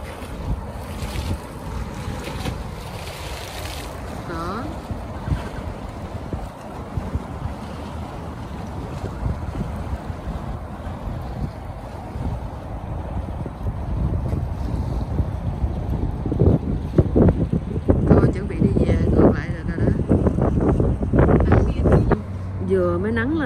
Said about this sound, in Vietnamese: Có cái tàu đi ngang qua sao nước sóng bắn lên luôn.